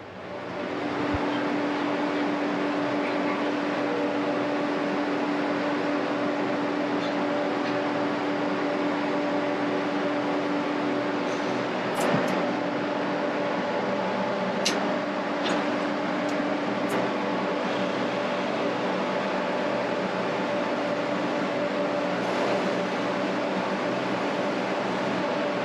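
A powder coating curing oven running at 200 degrees, a steady loud mechanical hum and fan-like roar that holds unchanged throughout, with a few faint clicks and no talking.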